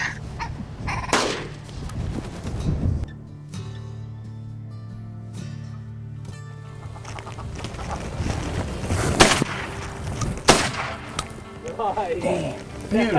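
Shotgun fired outdoors on a hunt, a few sharp, loud blasts with lingering echoes among calls and people talking.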